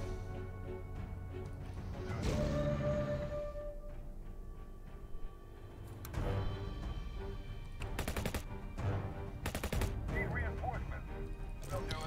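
Gunfire in the WWII tank battle game Tank Operations: European Campaign, several sharp shots and bursts scattered over a rumbling battle bed, with talk heard in between.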